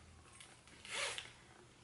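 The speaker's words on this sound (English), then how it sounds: "I love the zipper action over here." A zipper on a springtime clothing item is pulled once in a quick, quiet zip close by, with faint room tone around it.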